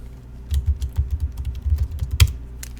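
A computer keyboard clicks in quick irregular bursts as a file name is typed, close and crisp with no talk over it.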